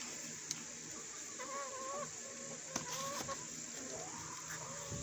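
Chickens being fed apples cluck softly nearby in a few short, rising bursts over a faint buzzing background, with a couple of sharp taps.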